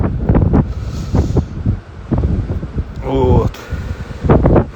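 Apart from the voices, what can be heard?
storm wind whistling by the sea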